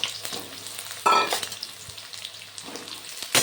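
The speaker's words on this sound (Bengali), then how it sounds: "তেলের মধ্যে বেগুন দিয়ে দিলাম। নাড়াচাড়া করে বেশ সুন্দর করে বেগুনগুলোকে ভেজে তুলে নেব।" Eggplant pieces sizzle and crackle in hot mustard or white oil while being stirred, a steady frying hiss with two louder bursts as pieces are moved, no talking.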